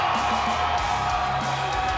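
Crowd at a Pinnacle Combat MMA fight cheering and whooping, a loud steady roar of many voices with scattered shouts, continuous throughout.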